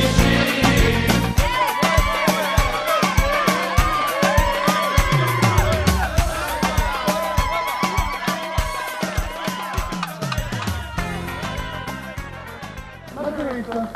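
A crowd at the Geva Carmel 40th and 50th anniversary party claps in a steady, regular rhythm, loud and close, under singing and festive music, with some whoops near the end.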